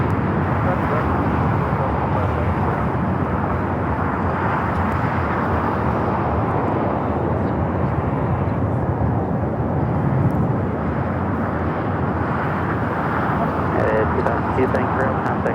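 An airliner rolls down a runway at Los Angeles International Airport with a steady, loud, broadband engine roar that stays constant throughout, heard from nearby with faint voices underneath.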